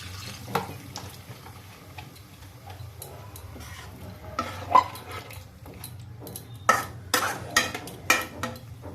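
Chicken masala frying in a wok (kadai) as a little hot water goes in, bringing bursts of sizzle, spatula scrapes and clinks of metal against the pan, close by, irregular and stronger toward the end.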